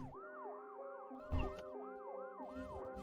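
A wailing ambulance siren cycles steadily through rising and falling sweeps, loud and close, with a brief thump of road noise partway through.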